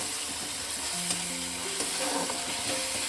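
Ginger-garlic paste and masala stir-fried in a pan, a steady close sizzle with soft scraping strokes running throughout, no voices.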